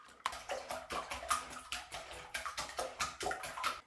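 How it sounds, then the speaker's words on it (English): A whisk beats eggs seasoned with salt and pepper in a bowl, giving a quick, steady rhythm of close, scraping clicks and sloshes that repeat about three times a second. "Let's give this a whisk first before we add anything else"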